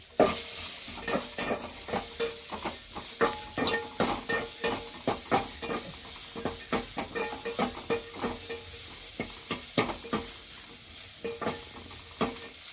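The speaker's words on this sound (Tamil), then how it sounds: "கொஞ்சமாக தான் எண்ணெய் ஊற்றியிருக்கோம் வெங்காயம் கருவேப்பிலை பச்சை மிளகாய் சேர்த்து" Onion, curry leaves and green chili frying in a little oil with cumin, a close hissing sizzle punctuated by repeated clinks and scrapes of a spoon stirring against the pan.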